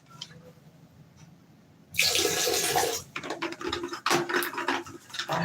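Water is poured into a toilet bowl during cleaning, starting after a quiet stretch as a sudden loud, continuous splashing gush that churns unevenly for several seconds, with no talk.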